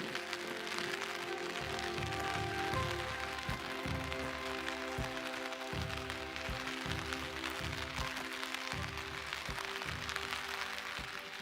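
Steady rain falls during a road trip through the Neelum Valley from Sharda to Arang Kel on a rough road. A constant wash of patter and hiss continues throughout, with faint low rumbles underneath and no voices.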